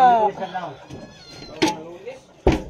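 A cat meows once up close, followed by a couple of sharp knocks, while a person talks at the start.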